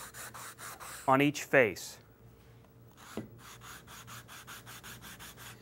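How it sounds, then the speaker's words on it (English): A sanding block rubs over the edges of wooden cabinet door parts in a couple of quick strokes, sharp and close, followed by fainter scraping passes with a short pause between, while someone speaks briefly. "I just like to take my sanding block and just a couple of passes"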